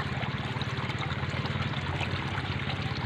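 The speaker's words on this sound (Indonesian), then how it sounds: "Nah, air-airnya jatuh yang tentunya akan membuat oksigen tambahan." Water falling from a pipe into a hydroponic floating raft system growing iceberg lettuce, a steady continuous trickle and splash, close and even throughout, with no talk.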